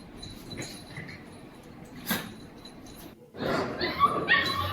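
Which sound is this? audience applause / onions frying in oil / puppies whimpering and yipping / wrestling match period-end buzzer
puppies whimpering and yipping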